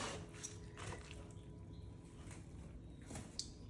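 Water dripping and trickling from fabric dyed with avocado skins and seeds, a quiet, steady wet patter with a few soft splashes, close by.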